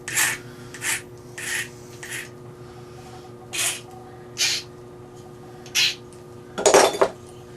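A hand file rasps across a wooden log while cutting a narrow corner notch, with about eight separate close scraping strokes spaced a second or so apart, the last one longer and harsher.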